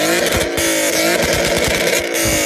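A Ford Mustang 3.7-litre V6 with an aftermarket exhaust revs hard in repeated throaty bursts, loud and close, the exhaust note rising and falling several times.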